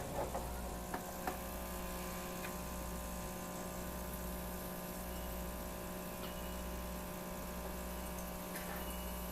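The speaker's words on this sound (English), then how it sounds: "It's heating up the water right now and shooting it out to clean out the system." A Philips Saeco Syntia coffee machine heating and flushing water through its system, a steady pump hum with a low pulsing throb and faint clicks, continuous and fairly quiet.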